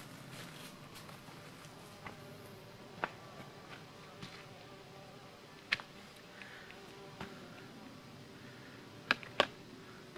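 Honey bees hum at an open hive during a small hive beetle infestation: a steady, dense, low drone fills the background, with occasional faint clicks and knocks from hive handling and no talk.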